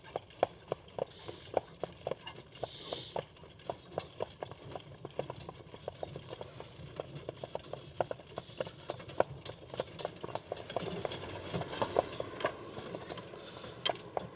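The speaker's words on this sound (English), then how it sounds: "these horses ain't been out on the highway. I mean, they're farm horses" Percheron and Belgian draft horses walk along a narrow road, a steady close rhythm of hoof clip-clops, with faint wheel and harness noise beneath.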